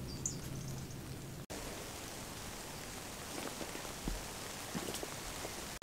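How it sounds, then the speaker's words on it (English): Heavy rain pours steadily outdoors near an old bottle dump, a dense, even hiss with scattered louder drops pattering close by, heard from shelter under a tree. "It's raining quite heavily now, but luckily we're under the tree."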